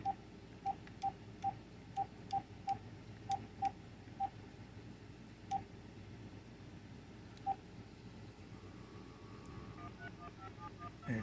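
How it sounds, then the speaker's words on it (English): Touch-tone keypad beeps from a Magic Jack phone, a run of about a dozen short, evenly spaced dialing tones followed by a faint ringback, clear and close with no talk. "And it's dialing."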